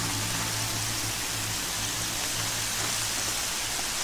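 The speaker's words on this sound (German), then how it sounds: "Regen ist gar nicht so übel." Steady rainfall in the video game Horizon Zero Dawn, a dense, even hiss of rain on surfaces that holds constant throughout with no voices.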